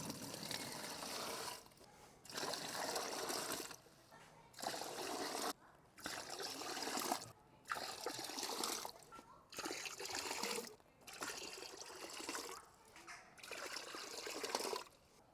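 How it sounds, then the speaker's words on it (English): Water pours in repeated bursts into a motorcycle drybag during a capacity test, each trickling, splashing pour lasting a second or two and separated by short silent pauses, close and fairly quiet. "So I'm gonna pour, I think at least 1, maybe 2 liters."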